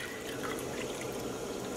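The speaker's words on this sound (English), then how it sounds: "And I'm adding a cup of vinegar." A cup of vinegar is poured into a large pot holding eight cups of water, making a soft, continuous watery splash and trickle that stays faint throughout.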